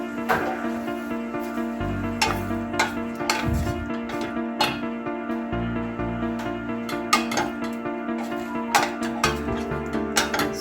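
Metal cookware clanks and clinks in a kitchen while a lid is set onto a pot of chicken sinigang, with a series of sharp, close knocks over a steady low hum.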